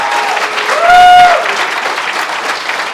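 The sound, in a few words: round of applause for the champions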